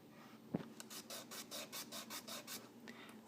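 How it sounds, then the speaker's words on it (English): A hand rubbing the rough, unsanded edge of a kitchen cabinet door, heard as a close, quiet rhythmic rasping of about ten strokes after a single tap. "I'm rubbing and you can hear stuff coming off there"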